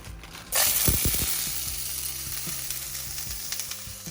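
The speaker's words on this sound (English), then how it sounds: "So I'm gonna put some seasoning into a hot pan." Seasoning hits a hot pan and bursts into a loud, steady sizzle with sharp onset, accompanied by rapid rattling clicks as it is stirred, for Creole salmon in tomato gravy.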